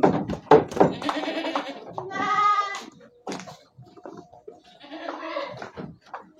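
A goat bleats on a farm, a few close wavering cries separated by quieter gaps, with some knocking thuds early on.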